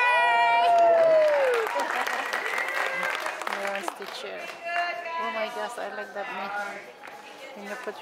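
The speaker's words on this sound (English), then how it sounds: "Somebody's cheering for my son behind." Audience cheering and whooping at a men's physique bodybuilding competition, loud shouts and calls rising and falling over several seconds, with a voice speaking amid the crowd.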